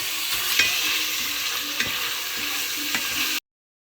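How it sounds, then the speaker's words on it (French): Meat pieces with spices simmering in a pot, stirred steadily with a spoon: a constant loud sizzle with soft scraping strokes at irregular intervals, ending abruptly. "On mélange bien avec les épices."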